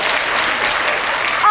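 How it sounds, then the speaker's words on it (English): Audience applause at a stand-up comedy show, a dense, steady wash of clapping from a crowd of women filling the room, continuous and fairly loud throughout with no break. "Applaud if you have cellulite."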